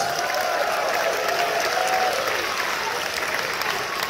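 A large crowd applauds and cheers continuously at a Transformers world premiere event in Singapore, a loud, dense wash of clapping and voices that holds steady throughout.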